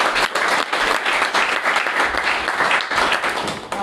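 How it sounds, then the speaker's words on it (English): Loud, sustained clapping from a crowd at a startup pitch night in a coworking space, a dense wall of overlapping claps holding strong for nearly four seconds. "Okay, big applause."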